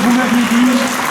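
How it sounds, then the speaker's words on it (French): An audience at a culture and music merit awards ceremony claps in a dense, steady burst, while a voice carries on talking over the applause. "applaudissements pour ce programme, bien sûr"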